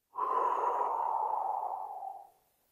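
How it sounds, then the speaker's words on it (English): A slow, deep belly breath, a single long airy exhale close to the mic that fades out after about two seconds, heard alone with no talking. "We're going to breathe into our belly. Our belly's going to expand. Breathe deep. And then breathe out."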